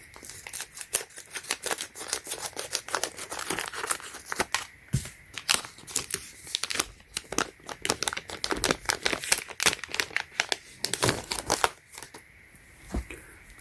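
Scissors snip and crinkle through the factory-sealed packaging of a replacement battery for an Apple iPad Pro 9.7-inch, with a rapid irregular series of close cuts, rustles and plastic crackles and no talking.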